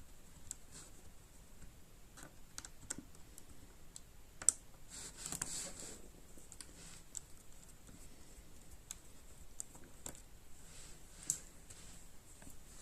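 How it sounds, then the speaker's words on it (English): Phillips screws come out of a Dell Latitude E7240 laptop during fan removal, heard as scattered small clicks and taps of the screwdriver, faint and close, with no talking. "So let me take those screws out now."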